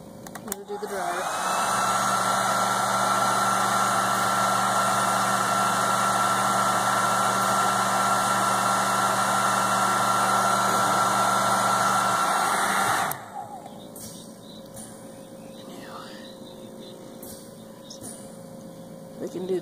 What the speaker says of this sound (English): I'm gonna do the dryer.